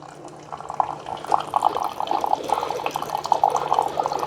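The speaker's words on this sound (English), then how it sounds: "it starts brewing right away" A quiet Cuisinart SS-15 single-serve coffee maker brewing, with a steady liquid trickle and soft dripping and gurgling over a low hum, close by.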